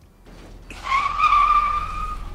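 A car skids to a stop with a loud, rising tire squeal that holds steady for over a second, heard close and alone against a quiet outdoor background.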